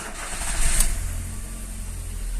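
A G5 car engine, just fitted with a new bearing and running without its belt, cranks and starts in a loud burst, then settles into a smooth, low, steady idle close by.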